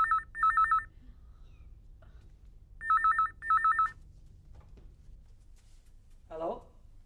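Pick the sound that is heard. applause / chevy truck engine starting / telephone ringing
telephone ringing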